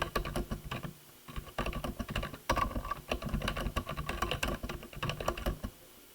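Rapid clattering keystrokes on a computer keyboard, close and crisp, coming in bursts with short pauses between them.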